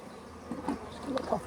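Honey bees swarm over white comb in an open hive box, buzzing continuously at close range, with brief louder passes near the microphone.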